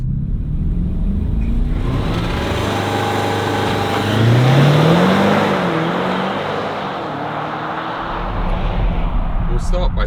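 A BMW X7 M60i, a seven-seat luxury SUV with a 530 hp S68 V8, accelerates hard, its engine note climbing steadily and loudly before easing, with steady road and wind roar throughout.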